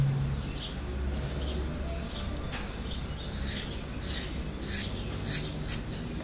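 Scissors snip through wool yarn being trimmed for a doll's hair, a few short, crisp cuts clustered toward the end over quiet room noise.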